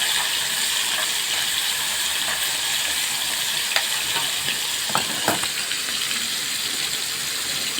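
Beef liver frying in a pan of hot oil, the batch added in part and seasoned with ginger, gives a steady loud sizzle with crackles and a few sharp pops, alone without talk.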